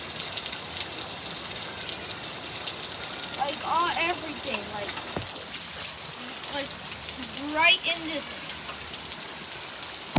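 Super heavy rain pours down in a dark setting, a constant hissing wash of drops close to the microphone, with a person talking over it at intervals.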